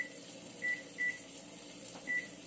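Three short electronic beeps from an oven timer being set for baking fries, fairly faint and evenly spaced over a quiet room background, with no talking.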